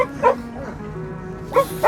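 A pet dog barks in short yips twice, once early and once in a quick pair near the end, close and clear over a low background hum, with some quiet talk mixed in.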